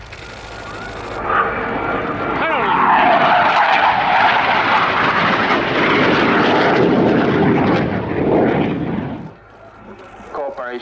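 An Aero L-159 military jet in a steep climb at an airshow, its loud roaring engine swelling and sustained for several seconds, then fading away, with a voice speaking over it.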